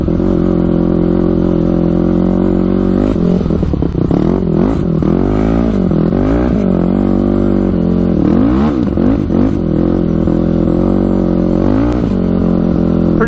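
A modded race quad's engine revs loudly and continuously close up during a ride in fog, its pitch rising and falling in repeated sweeps as the throttle is worked.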